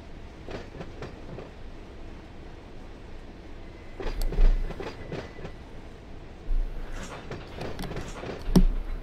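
A train in the video game Run8 V2 rolls along with rhythmic clattering and metallic clicks, swelling louder in bursts over a steady rumbling background.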